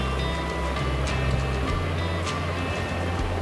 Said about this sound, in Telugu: ఇలా వీటన్నిటిని గ్రైండ్ చేసి మెత్తగా పేస్ట్ లాగా చేసుకొని పక్కన పెట్టుకోండి